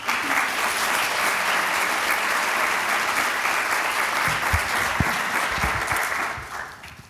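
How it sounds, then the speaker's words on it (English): An audience at an honor society induction ceremony applauds award winners with sustained, dense clapping that holds steady and then tapers off near the end. "Please, another round of applause for all our winners."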